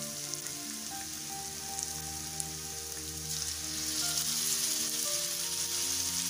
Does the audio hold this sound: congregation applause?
no